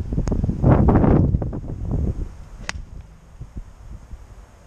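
Wind gusts across the microphone on a golf course, a rough, broadband rumble that swells for the first two seconds and then settles into a softer, steady rush.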